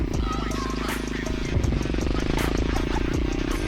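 Geon X-Ride 190 pit bike engine revving hard as it accelerates during an outdoor ride, a steady loud drone with a surge midway, with excited talk over it.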